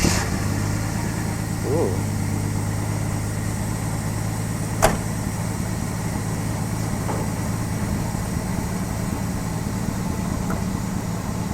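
A Ford Falcon Ranchero with a straight-six 170/200 engine and Holley Sniper EFI runs at a steady, even idle throughout, close and constant, with one brief voice exclamation.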